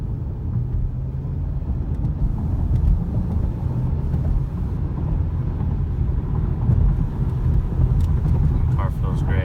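A CLS car's engine drones with a deep, steady rumble while driving, heard from inside the cabin and swelling slightly as the revs climb.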